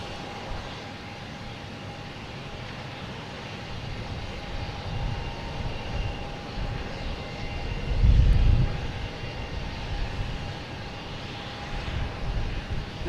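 A Japan Airlines Boeing 787 Dreamliner arrives from Tokyo at Boston Logan Airport, its engines a steady distant roar that swells briefly as it passes, heard outdoors with no talking.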